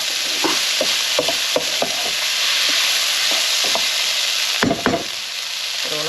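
Bacon and fresh fruit juices go into a hot pan and sizzle with a constant bright hiss. Several sharp clacks of stirring break through it, close by, with no talking.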